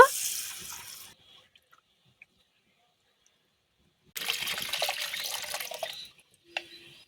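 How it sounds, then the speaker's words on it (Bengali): Moong dal lentils rinsed under running tap water, a short gush of flowing, splashing water, then a quiet gap, then a longer steady stream with a faint clink at the end. No one speaks. "এবারে জল দিয়ে ধুয়ে নেব"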